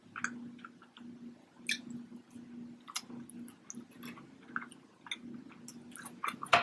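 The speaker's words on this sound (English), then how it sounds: "I'll just keep eating my Birria tacos" Close, quiet chewing of birria tacos, with soft wet squishes and crunchy bites repeating in an irregular rhythm.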